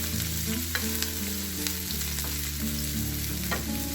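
Onion and garlic fry in a pan for chicken masala, a continuous loud sizzle with occasional pops and faint stirring scrapes and no talking.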